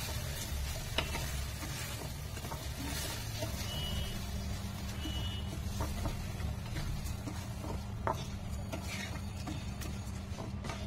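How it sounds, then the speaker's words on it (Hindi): Rice for pulao with dry fruits being stirred in a pan under a low sizzle, with soft, irregular scraping and clinking strokes over a steady rumbling background, quiet and with no talking. "हम अच्छे से चावल को और ड्राई फ्रूट सब जो था उसको हम अच्छे से मिला दिए हैं"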